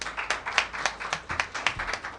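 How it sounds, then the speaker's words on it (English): Audience applause at a civic pre-K expansion event, honoring a group of children: a run of distinct, uneven claps sounding thin and a little distant, steady for a couple of seconds with no voices over it. "let's give a round of applause to these children"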